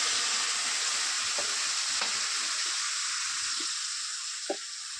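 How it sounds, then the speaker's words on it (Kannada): A ground masala paste sizzles and fries in a pan with peanuts and chana dal, a steady close hiss broken by a few soft scraping stirs of a spoon. "ಈಗ ನಾವು ರುಬ್ಕೊಂಡಿದ್ದೀವಲ್ಲ ಈ ಮಸಾಲೆನ ಇಲ್ಲಿಗೆ ಹಾಕೊಳ್ಳಿ"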